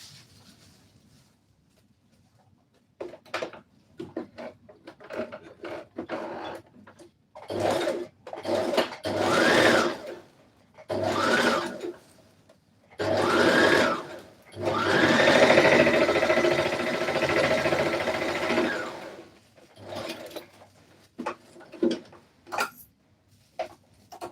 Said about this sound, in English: So I'll sew the dart and do the rest.